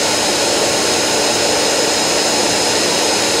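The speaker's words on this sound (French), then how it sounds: "L'aspirateur se vide seul par sa station de vidage automatique." An Ecovacs Deebot T8 robot vacuum's auto-empty station pulls dust out of the robot with a loud, steady, jet-like roar of suction that holds unbroken from start to finish.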